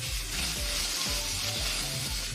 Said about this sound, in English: our potatoes, we're going to brown them well, so they're nice and crispy